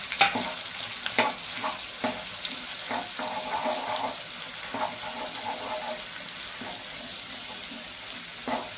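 Curry leaves and ground spice paste sizzle in hot ghee for chicken roast, a steady crackling fry with sharp spattering pops and stirring scrapes throughout, close and moderately loud with no talking.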